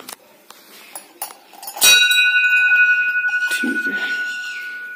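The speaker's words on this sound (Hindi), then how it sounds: "एक घंटी लगी हुई है। चलिए उसको बजा लेते हैं अपन" A hanging metal bell at a ruined temple in Ranthambhore Fort rings with one sharp, loud strike, its bright tone sustaining and slowly pulsing as it fades over several seconds, after a few light clinks and with talk in the background.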